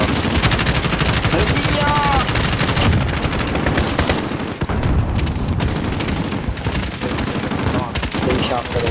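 Rapid, loud gunfire from the Spec Ops video game rattles almost continuously, with sniper shots cracking amid bursts of automatic fire in a battle setting.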